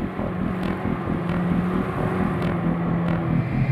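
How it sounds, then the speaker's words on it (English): A high-powered futuristic watercraft engine rumbles steadily, a low continuous drone that stays distant, with faint higher swishes coming and going and no voices. "The rumble of a high-powered engine echoes from afar."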